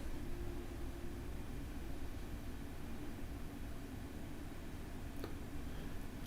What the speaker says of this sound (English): I am very happy with the level of noise. This is a really quiet machine